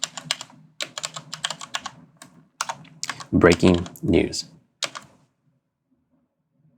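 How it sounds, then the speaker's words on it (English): Rapid clicking of a computer keyboard while text is typed in, in short bursts at close range. A voice briefly speaks near the end before the keys stop and the room falls silent. "As we're typing, we can see it appear in each of our views."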